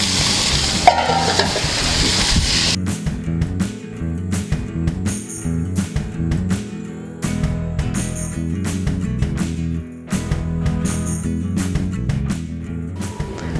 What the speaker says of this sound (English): Okay, so our veggies are lightly sauteed.